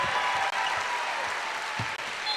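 A home crowd at a Canberra women's basketball game, UC Capitals against Perth Lynx in the WNBL, roars and applauds in a loud, continuous wash of clapping and cheering with two brief dips.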